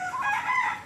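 Chickens and ducks on a home farm eating paddy rice, with a rooster-like crow or loud fowl call ringing close and steady through the whole moment, with no talking.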